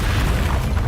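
In Hogwarts Legacy, the Expelliarmus spell goes off as a short, loud, booming burst, heavy and close, lasting under a second.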